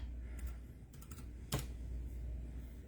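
Fingers tap a password onto a tablet, producing a few faint, soft, irregular taps and one sharper click against quiet room noise.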